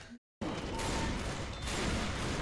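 A cannon firing repeatedly down a corridor in a video game, a loud, continuous rumbling barrage of blasts that starts abruptly after a brief silence and keeps pounding.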